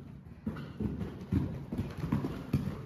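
Horse hooves clip-clop in a steady, moderately close rhythm during a riding exercise over a gymnastic line of poles, the footfalls evenly spaced and fairly soft.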